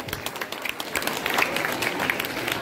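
Audience applause welcoming a speaker at an Arya Samaj event honouring Maharishi Dayananda Saraswati's birth anniversary, a steady dense clapping that swells slightly and continues throughout, with faint voices underneath.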